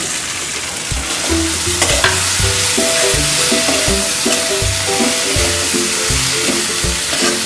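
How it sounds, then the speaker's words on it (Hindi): Okra frying in a pan on a low flame, stirred steadily, giving a continuous loud sizzle with spatula scrapes knocking in an irregular rhythm throughout, close up and without talk. "5 मिनट हमने ढक के भिंडी को पकने दिया है। एक बार चेक कर लेते हैं।"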